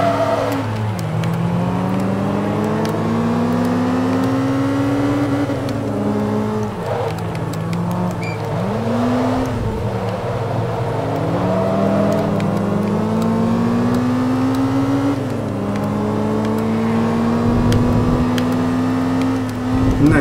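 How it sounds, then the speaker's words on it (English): A 2003 Toyota APR Performance Celica GTS in Forza 2 whines loudly as its engine revs and wheels spin, the pitch rising and dipping repeatedly over a steady, continuous drone. "Tire spin."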